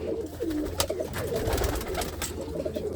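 A pigeon coos in short, soft, repeated calls close by, amid steady outdoor background noise where pigeons are kept in the Anandpur Sahib area.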